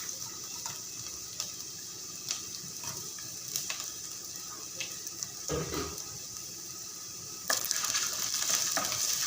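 Ginger goes into a pan of frying garlic, producing a steady close sizzle with occasional stirring scrapes and a louder burst of hissing near the end, all without speech.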